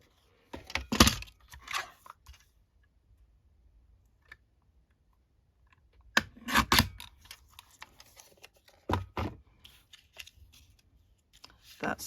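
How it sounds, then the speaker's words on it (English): A paper trimmer guillotine slices through a junk mail envelope in three separate sharp cutting strokes, close and crisp, with quiet gaps between them. "How can you use a trimmer, a guillotine, and not do it straight, Jez?"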